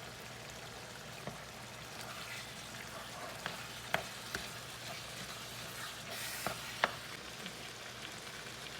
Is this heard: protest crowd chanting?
no